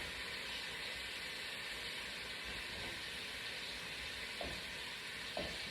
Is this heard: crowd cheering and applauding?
no